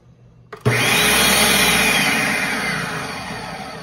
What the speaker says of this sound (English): Oh, I didn't put the blade in the blender.